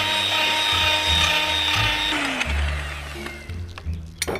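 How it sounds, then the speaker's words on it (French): A small electric hand mixer on its lowest setting beats pizza brioche dough, giving a close, steady motorized whir with a low churning drone that shifts and slows toward the end. "là je vais utiliser un petit batteur électrique"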